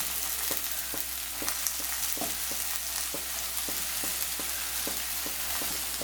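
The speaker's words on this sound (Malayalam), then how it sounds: "ഈ സവോളയുടെ കൂടെ തന്നെ ഞാൻ വഴുതിരിങ്ങ മുറിച്ചതും കൂടി ഇട്ട് കൊടുക്കുന്നുണ്ട്." Chopped onion and eggplant sizzle steadily in hot coconut oil in a pan, with a continuous frying hiss and regular light scrapes and clicks of a spoon stirring; no voices.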